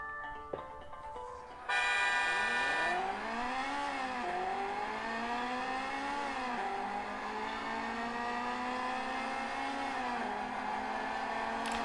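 An iPad racing game with a Golf car: a synthesized engine revs up with rising and falling pitch through gear changes, a steady game-engine drone after a short musical intro.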